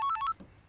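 A phone ringtone plays a short run of bright electronic beeps, fairly loud and alone, cut off after a fraction of a second.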